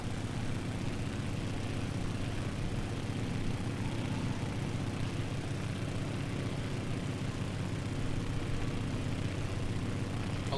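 Steady turboprop engine drone, much like an ATR, from an aircraft in Microsoft Flight Simulator flying around Las Vegas, a constant dense roar with a low hum that stays even throughout.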